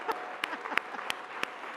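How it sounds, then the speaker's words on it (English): Sparse, light applause from a small audience honoring board members at a gathering, a few scattered individual claps spaced out over under two seconds. "Let's applaud them."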